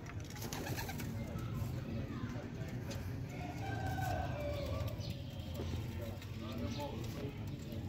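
Low, throaty pigeon coos murmur under people talking, against a constant busy outdoor background in Sialkot.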